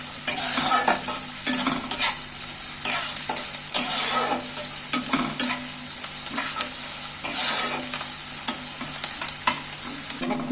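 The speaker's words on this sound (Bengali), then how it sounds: "এবার কাটা পেঁয়াজগুলোকে ভালো করে নাড়াচাড়া করে ভেজে নিচ্ছি" Chopped onions sizzle steadily in hot oil while a utensil stirs and scrapes through them in irregular bursts, close and continuous with no voices.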